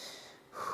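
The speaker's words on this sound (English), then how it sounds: "Let's take one more inhale." A single deep inhale through the nose during a power vinyasa yoga flow, close and airy, rising at the end of the brief moment, no talk.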